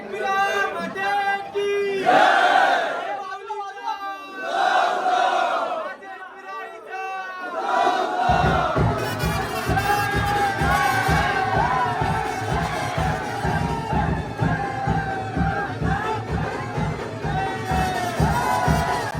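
A festival crowd cheers and shouts during a procession welcoming Ekvira Aai's mask, with voices rising in bursts. Then loud drumming kicks in with a rapid pulse under the continuing crowd noise.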